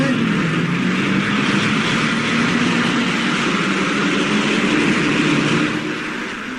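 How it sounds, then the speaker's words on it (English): Rally cars rev their engines at the start of the Monte Carlo Rally, rendered as a radio sound effect: a steady, loud engine drone with a slowly rising pitch that eases off at the very end. "All the cars are revving up, each waiting for his signal to go"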